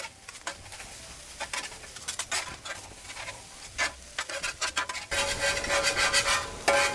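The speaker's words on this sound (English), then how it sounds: "Now we're gonna start stirring and mixing everything up." Egg fried rice being stirred and mixed on a hibachi flat top: scattered scraping and clicking strokes over a faint sizzle, which grows louder and denser in the last couple of seconds, with no talking.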